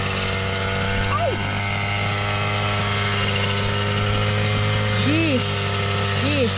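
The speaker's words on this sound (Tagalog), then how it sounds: "May grass cutter pa rin siya." A grass cutter runs steadily throughout at close range, a continuous motor drone with a few rising and falling pitch swoops near the end and voices faintly in the background.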